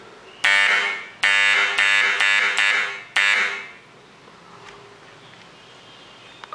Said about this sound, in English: whenever this water touches the above terminal, the buzzer gets activated.